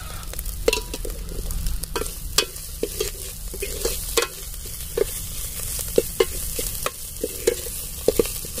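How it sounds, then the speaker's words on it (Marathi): Black chilli masala frying in oil for a village-style egg curry, a steady sizzle broken by repeated sharp spoon knocks and scrapes against the pan at an irregular pace. "हे पण थोडा वेळ भाजू द्यायचं तेलातच"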